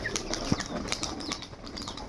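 A black-eyed Rajshahi pigeon with clipped wings performs aerial tumbles outdoors, its wings giving a quick series of flapping bursts over a steady background hiss, with one sharp clap partway through.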